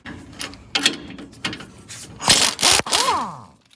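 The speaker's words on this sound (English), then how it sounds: "What we're gonna need to do first is disconnect the sway bar link from the lower control arm. And we're gonna be doing that using an 18mm socket." Ratchet with an 18mm socket working loose a sway bar link nut on a 2015-2020 Ford F-150 lower control arm; a few short bursts of clicking and scraping, close and fairly loud, with no talk.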